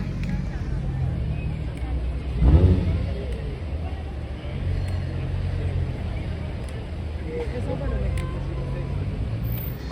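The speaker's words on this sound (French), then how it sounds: "Une R8 V10 qui passe pendant ce temps-là." An Audi R8 V10 sports car passes on a road during carspotting in Deauville, its engine swelling into a brief rumbling surge and fading against steady traffic and street noise, with people talking over it.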